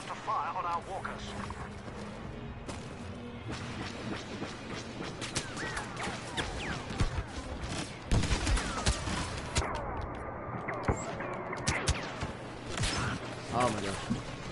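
Star Wars video game battle as rebel ships fire on walkers: a busy spread of blasts and rapid shots crackles over a low rumble, fairly faint and continuous, with a voice speaking under it.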